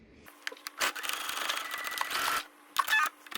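A sewing machine stitches over a zipper and liner fabric on a pouch made from Turkish towels, running in a few bursts, one long steady run of whirring stitches with brief pauses and small clicks between, close up.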